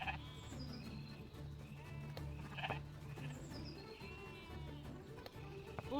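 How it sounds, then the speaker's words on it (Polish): Cameroon sheep bleat intermittently around a rural forest homestead, several short wavering calls at moderate distance over a low steady background hum. "Zawsze się mylę do nich kozy mówię, a to są owce kameruńskie."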